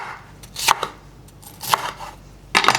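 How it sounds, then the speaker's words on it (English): A knife chops vegetables for a Greek pasta salad on a cutting board, with three sharp, close thuds spaced about a second apart and little else around them. "And again, I just cut large pieces."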